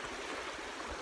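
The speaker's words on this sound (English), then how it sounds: "Wade the creek." Rock Creek water flowing steadily nearby, a continuous broadband rush and gurgle with no talk over it.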